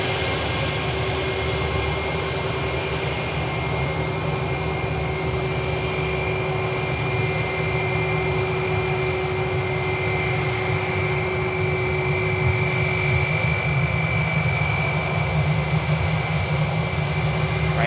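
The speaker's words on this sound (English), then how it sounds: "Ryanair to Curry is on the roll now." A Ryanair jet on its takeoff roll at Manchester Airport, a continuous loud engine roar with a high whine, fairly near and steady throughout, with no voices.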